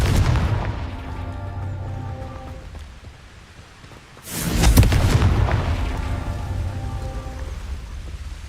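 A Confringo explosive spell blasts in the Hogwarts Legacy video game, a sudden loud burst with a broad crackling roar that decays over several seconds over a low rumbling game background.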